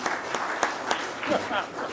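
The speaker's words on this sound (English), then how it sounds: "Give her a round of applause." Scattered audience clapping at a traditional music concert in a community hall in Milltown, Rathconrath, several sharp claps over a murmur, fairly light and short.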